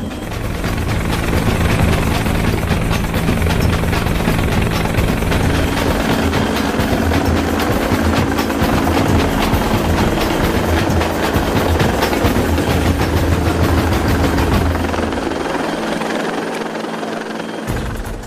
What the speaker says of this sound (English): As the helicopter nears the ship